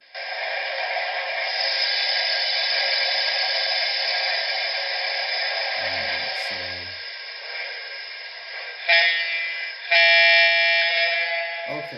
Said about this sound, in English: there's an air horn, okay, a diesel air horn that they added to that